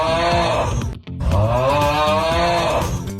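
A sleeping person snores loudly with a deep, droning, moan-like tone, two long rasping snores split by a brief silent catch for breath, close up and with no talking.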